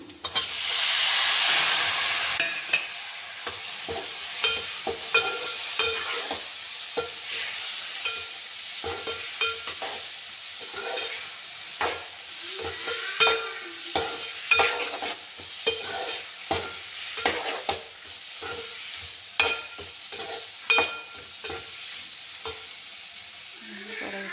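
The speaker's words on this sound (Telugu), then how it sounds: "ఇదిగో ఇప్పుడు చిక్కుడుకాయ ముక్కలు కూడా వేస్తున్నాను" Broad bean pieces frying in a pan with ginger-garlic paste, a steady soft sizzle and hiss under repeated scraping clinks of a spoon stirring, close and fairly quiet.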